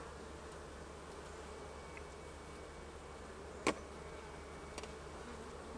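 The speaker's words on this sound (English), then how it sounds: "the bees are already all over the cage" Honey bees buzzing around a queen cage set face down near the middle of the brood nest in a hive, a soft steady hum with a couple of brief sharp clicks.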